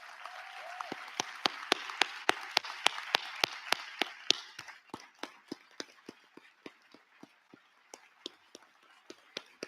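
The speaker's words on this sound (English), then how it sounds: "let's give a round of applause to our great panelists." An audience applauds panelists at an environmental justice panel, a brisk burst of clapping that thins out into scattered individual claps toward the end.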